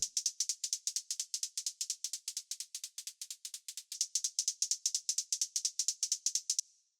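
A synthesized hi-hat built from a white-noise stab, a bright hissy tick repeating in a fast, steady rapid-fire pattern of about thirty short hits over six and a half seconds, played alone with no voice, then stopping.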